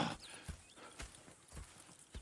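Horse hooves clip-clopping in Red Dead Redemption 2, a few spaced, moderately close hoof falls over quiet background ambience, with a faint whinny-like tone.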